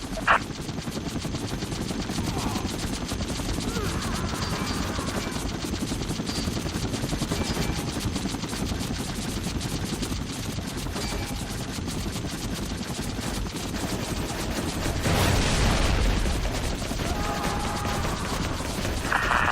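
Enemy gunfire in the Vietnam-era air combat game Air Conflicts Vietnam, a continuous rattle of distant shots under a constant aircraft engine drone, with a louder swell near the end.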